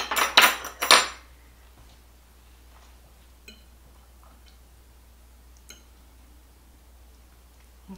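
A hot Southern squash casserole dish comes out of the oven with a quick burst of loud metallic clanks and rattles at the start, followed by near silence and a few faint taps.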